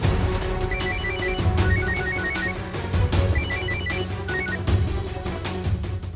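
A phone rings on an outgoing call: repeated high, bell-like ring bursts in an even rhythm over a steady, dense background bed. There is no talking.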